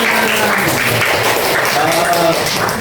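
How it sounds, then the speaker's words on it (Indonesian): Audience in a classroom or seminar in Indonesia clapping after a correct answer, a loud, steady burst of many hands with voices mixed in underneath. "kasih tepuk tangan"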